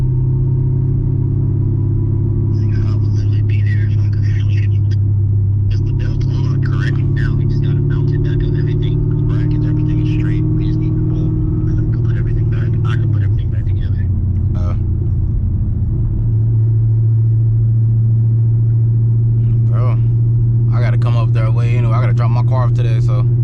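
A Chevrolet Camaro ZL1 drives on the road with a loud, steady low engine rumble that shifts pitch midway, while people talk over it throughout.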